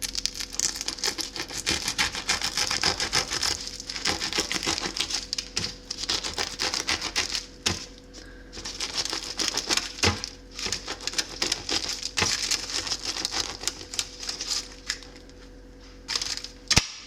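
A knife saws into a crusty sourdough bread bowl, crackling and crunching in close, irregular bursts of brittle crust breaking, with short pauses between strokes.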